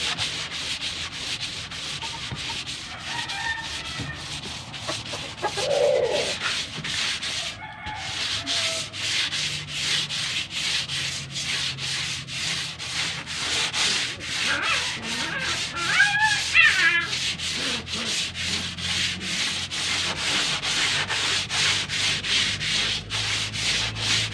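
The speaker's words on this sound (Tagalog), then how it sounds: "Sabay liha." Continuous rhythmic hand sanding of body filler, a dry scratchy rubbing in quick strokes, close up, with no talking and faint distant rooster sounds.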